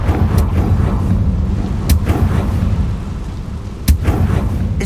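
A Confringo blasting spell explosion in Hogwarts Legacy: a loud, rumbling low blast texture with a couple of sharp cracking bursts, continuous and dense throughout.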